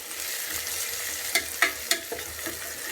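Sliced shallots and onions sizzle softly in a pan as a spoon stirs them, with a low, steady fry hiss and three or four crisp scrapes in quick succession midway.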